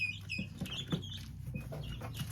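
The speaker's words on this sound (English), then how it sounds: "These guineas are just so anxious." Anxious guinea fowl call out while being caught, giving rapid harsh clucking and squawking cries close by, fairly loud and continuous.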